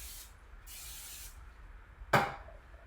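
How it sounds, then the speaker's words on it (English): A quick, short hiss of butter-flavored spray oil onto a waffle iron, one sharp burst close up in an otherwise quiet kitchen. "Just give it a quick spray."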